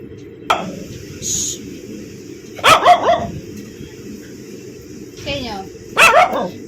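Toby, a pet dog, lets out several sharp, loud barks in separate bursts close by, with quiet pauses between them and some voices in the background.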